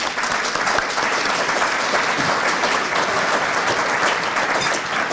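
An audience at a Greater Norwalk Chamber of Commerce presentation gives speaker Peter Gioia of CBIA a warm welcome, steady close clapping from many hands held at an even level throughout.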